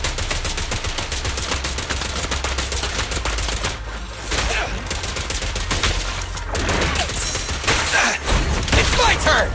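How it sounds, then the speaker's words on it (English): Rapid gunfire in the action video game Zenless Zone Zero, dense bursts of shots firing almost without pause over game music and effects, loud and continuous with a brief lull partway through. "I've got plenty of bullets!"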